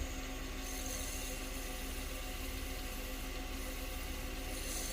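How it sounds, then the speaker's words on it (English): A steady, even whir of a wood lathe spinning at about 1500 RPM while a wooden pen is sanded, with soft, continuous abrasive rubbing, faint and unchanging throughout. "This is my sanding process, my finishing process for pens."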